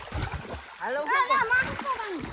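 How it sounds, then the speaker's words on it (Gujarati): A phone thrown into water lands with a splash during a children's outdoor water game, with excited young voices shouting close by. "આ ફોન રહ્યો ને પાણીમાં ઘા કરી અને ફોન પેલા પકડી આવે"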